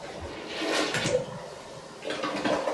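A toilet flushes in a home bathroom during a yearly inspection, a faint rushing swirl of water that swells and eases over a few seconds, heard alone without talk.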